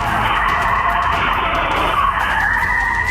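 A car skids out of control and spins after hard braking to avoid a dog, with a family inside; a loud, sustained tire squeal runs steadily with no voices.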